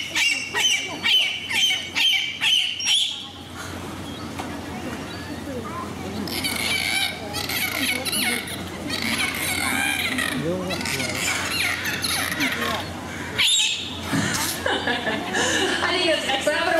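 Pacific white-sided dolphins at an aquarium show give a rapid run of loud honking, squeaky calls, then a crowd murmurs and a trainer talks through the rest, with more chirps and honks breaking in near the end.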